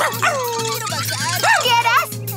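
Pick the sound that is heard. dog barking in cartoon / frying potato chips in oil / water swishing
dog barking in cartoon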